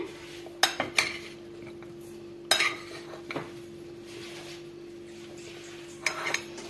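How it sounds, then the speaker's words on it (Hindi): Chopped fruits and dates being mixed in a bowl with a spoon, with several sharp clinks and scrapes of metal against the bowl over a low steady hum, close by and with no talking. "अब हम इन सारे फ्रूट्स को मिक्स कर लेते हैं।"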